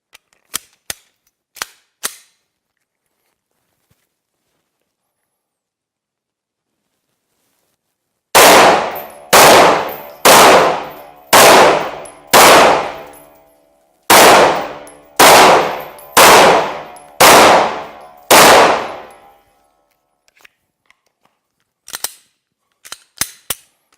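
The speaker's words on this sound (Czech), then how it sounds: "Teď si to ukážeme v ostré střelbě." Live-fire shots from a Glock pistol while the shooter moves sideways, two strings of about five sharp, loud cracks each, evenly spaced and close, with faint clicks and handling noises before and after.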